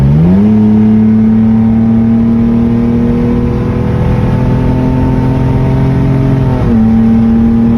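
A loud 3.0 V6 car engine with a muffler-delete exhaust roars from close by, rising briefly in pitch and then holding a steady raspy drone before a brief dip near the end.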